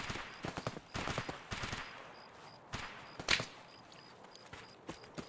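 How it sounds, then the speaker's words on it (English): Faint bursts of gunfire crackle in the distance in the video game Escape from Tarkov, several rapid volleys scattered across a few seconds over a low ambient background. "shortly you'll hear some gunshots there"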